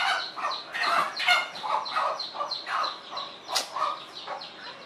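Chickens clucking and squawking in a rapid, uneven series of close, fairly loud calls, with no talking.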